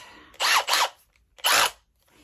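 A power drill fires in short, whirring bursts while its bit is being changed: two quick spins close together, then a pause and a third, each loud and near against a quiet room.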